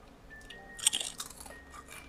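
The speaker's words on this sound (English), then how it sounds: "I'll just crunch a chip." Someone bites into a chip, giving a short cluster of crisp crunching and chewing bursts near the middle, close and fairly quiet against a faint background hiss.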